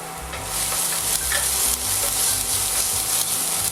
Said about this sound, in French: C'est un petit déglaçage en cours de cuisson.